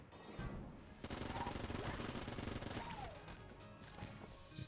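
Rapid gunfire from a weapon in the roguelike shooter Enter the Gungeon, each shot fired in triplicate: a dense, continuous stream of loud game shots with crashing impacts, running the whole length with a brief quieter start.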